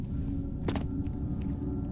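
A low, steady storm rumble fills a Starfield sci-fi game scene, with one brief sharp burst early on and no voices.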